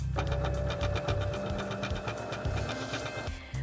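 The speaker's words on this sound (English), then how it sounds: "So we're just going to sew along this line to close up the gap here." Sewing machine stitching a seam closed on a homemade caterpillar costume, a fast, steady mechanical whirr with rapid rhythmic needle ticking, close and continuous before stopping near the end.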